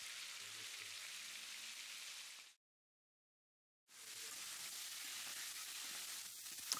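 Beef pieces searing in very hot oil for boeuf bourguignon give a dense, steady hiss and crackle, broken by a brief silent gap before the sizzle resumes at full strength.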